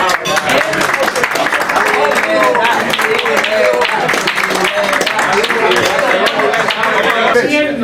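Applause and cheering from a crowd at a Marist golden wedding anniversary gathering in Valencia, honouring the organizer; dense, sustained clapping with voices mixed in throughout.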